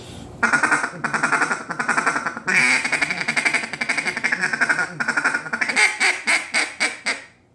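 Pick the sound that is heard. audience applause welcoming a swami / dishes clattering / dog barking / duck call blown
duck call blown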